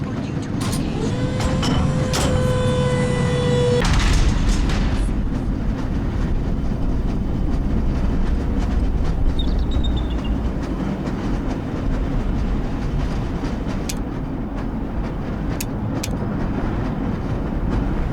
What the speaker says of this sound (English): This lever-controlled train will transport you to a location.